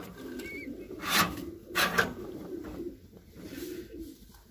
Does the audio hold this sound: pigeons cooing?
yes